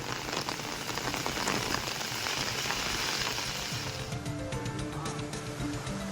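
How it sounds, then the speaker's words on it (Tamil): Heavy rain pours down during a storm in Tamil Nadu, a steady loud hiss of dense drops drumming on surfaces with no break. "2 மணி நேரத்திற்கு மேலாக கனமழை கொட்டியது."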